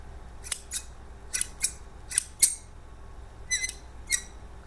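Sewing scissors opening and closing in a quiet room, about eight sharp squeaky metallic snips in irregular clusters, close and alone with no talking.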